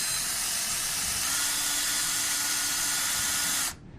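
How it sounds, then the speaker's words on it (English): An electric drill bores steadily into a potato: a continuous near whirring hiss with a faint motor tone that runs without a break and then cuts off abruptly just before the end. "we've drilled down into the potato about 3/4 of the way down"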